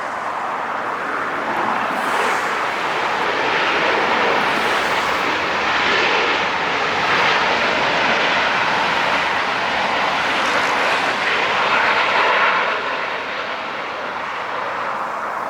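ANA Cargo Airbus A330 arriving at LAX on the north side, a broad steady jet roar that swells and holds as the airliner passes, moderately distant with faint traffic noise beneath.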